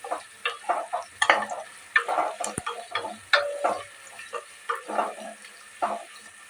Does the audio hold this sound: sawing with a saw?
no